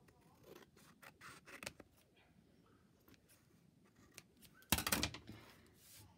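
Scissors trimming fabric give a few soft, close snips, followed by one louder crisp cut near the end, in an otherwise quiet room.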